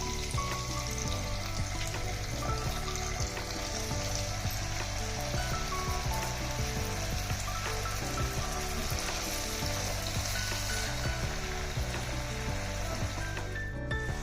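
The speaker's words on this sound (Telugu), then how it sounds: "ఒక ప్యాన్ పెట్టుకొని దాంట్లో కొద్దిగా ఆయిల్ పోసుకుందాం ఆయిల్ పోసుకొని ఇందాక కలిపి పెట్టుకున్న చికెన్ని ఇందులో వేసి దోరగా వేగనిద్దాం" Marinated chicken pieces fry in a little oil in a pan over a medium flame, giving a steady, dense, close sizzle that hisses continuously throughout without pause or voices.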